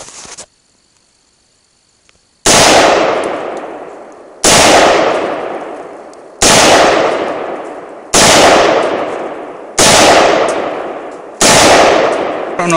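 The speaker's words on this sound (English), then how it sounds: "I just kept trying to shoot at it from the end." Six loud rifle shots from 5.56mm and .30-06 rounds fired into a hard drive set in a pot, spaced about two seconds apart, each sharp crack trailing off in a ringing decay, with no talking.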